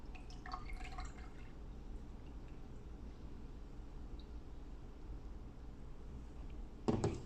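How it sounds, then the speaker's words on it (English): Water trickles and drips steadily through a homemade water filter into a holding container, a continuous soft liquid patter with a brief louder splash near the end. "So notice that the water continues to flow."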